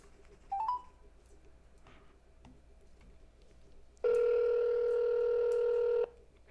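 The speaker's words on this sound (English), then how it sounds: "Leave him a voicemail if we need to." A telephone dialing a number to leave a voicemail: a brief burst of keypad tones early on, then a loud, steady dial-style tone that holds for about two seconds before cutting off, against a quiet background.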